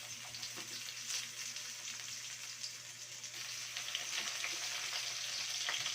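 Onions for adobong sigarilyo fry in a pan with a steady, bright sizzle that holds at an even, moderate level throughout, with faint stirring clicks and no talking.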